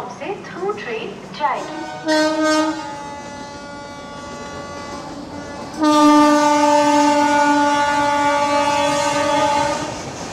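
An express train pulls into Santragachi station, its horn sounding loud and close in short blasts, then a long sustained blare over rumbling carriages.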